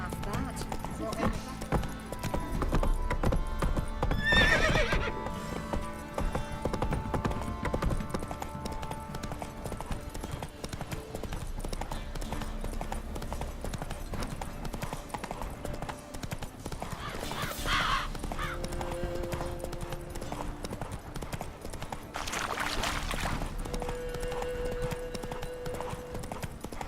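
Horse hooves clip-clop steadily at a walk in The Witcher 3, with occasional snorts and whinnies, while characters talk over the hoofbeats.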